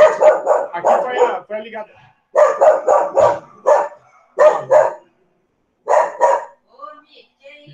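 An angry dog barks at the door of a house in sharp bursts of repeated barks with short pauses between volleys, loud and close, while someone talks in between.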